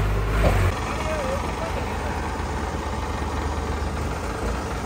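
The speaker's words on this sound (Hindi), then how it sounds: "और ट्रैक्टर ने बहुत जोर लगाया लेकिन नहीं निकल रहा अभी।" Tractor engine labouring under heavy load while trying to pull a trolley stuck in the ground, a steady low rumble that swells briefly near the start and then holds at a constant strain outdoors.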